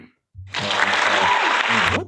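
A small group claps in a lively burst of applause for about a second and a half, close and fairly loud, with people talking and laughing around it.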